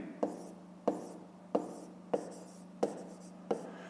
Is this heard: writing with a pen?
yes